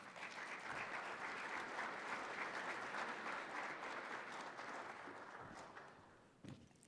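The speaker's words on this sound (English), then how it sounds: "Everyone give him a round of applause." An audience applauds a speaker coming to the stage at a talk on housing, with sustained dense clapping that fades slightly toward the end, capped by a brief knock.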